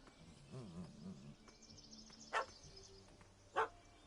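A dog in The Witcher 3 video game barks twice, short sharp yaps spaced about a second apart, faint over a quiet game ambience.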